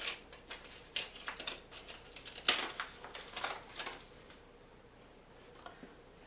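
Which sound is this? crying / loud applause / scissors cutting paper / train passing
scissors cutting paper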